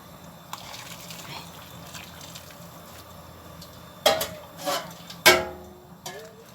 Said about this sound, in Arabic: انما لما تغلي ميه بعيد وتحطيها انت عليها كده اهي